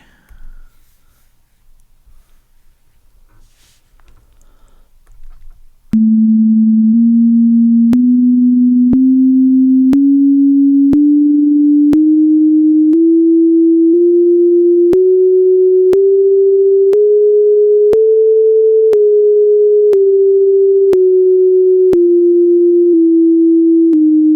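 A pure sine tone steps through a rising Pythagorean scale, each note held about a second, then turns and descends slightly; loud and steady with no other sounds.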